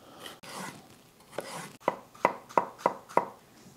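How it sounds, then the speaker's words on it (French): A spoon scrapes the seeds from the centre of a cucumber in a kitchen, making five sharp, evenly spaced strokes near the mic after some softer scraping at the start. "Pour enlever le centre d'un concombre, prenez-vous une cuillère. Tu fais juste gratter en plein milieu."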